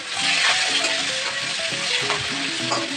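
Chopped onion frying with panch phoron in hot oil, a dense, continuous close sizzle with soft stirring movements underneath, loud and steady with no voices.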